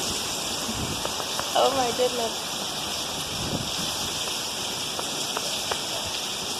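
Hail and heavy rain fall in the Phoenix area as a dense, constant hiss with scattered sharp ticks of impacts, loud and close, while a person briefly exclaims over it.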